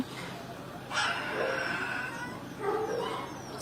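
Newborn puppies at the Konya animal shelter make a couple of high, thin whimpering yips at close range, with a soft voice nearby.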